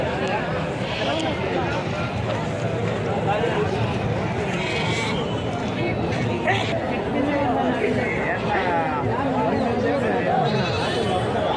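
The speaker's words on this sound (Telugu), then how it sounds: "చూడండి ఫ్రెండ్స్, అంగల్లో జరిగే గొర్రెల సంత." Sheep bleat again and again at a crowded sheep and goat market in Angallu, near and far, over constant crowd chatter.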